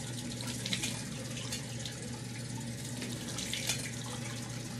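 Water runs steadily from a tap while a face is rinsed with hot water, a soft, even splashing rush with no voices.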